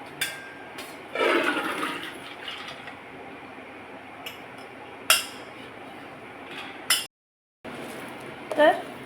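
Water is poured off soaked chana dal, a short splashy gush with clinks of a metal vessel and scattered bangs of kitchenware, followed by a brief silence and more clatter, with a voice nearby.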